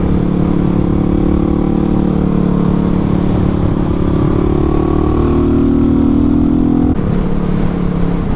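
A Yamaha WR250R motorcycle rides over gravel, its loud steady engine drone holding close throughout with a rising pitch shift midway, the rumble and clatter of the gravel mixed underneath.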